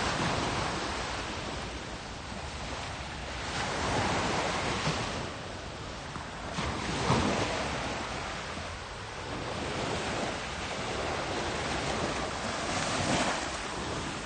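Surf rolls continuously onto an Australian beach, a broad hissing wash that swells and recedes every few seconds, mixed with some wind buffeting on the microphone.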